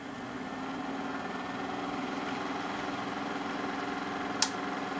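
The cooling fan of a bench power supply set to about 12 volts whirs as a steady low hum with faint tonal whine, constant throughout, with one brief sharp click near the end.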